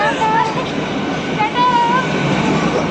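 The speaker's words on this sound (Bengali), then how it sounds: "আর আমাদের ট্রেন ওদিকে চলে যাবে, চলে যাচ্ছে।" A Sealdah–Ranaghat AC local train runs past nearby, a loud continuous rumble of rolling wagons with brief wheel squeals, while people talk over it.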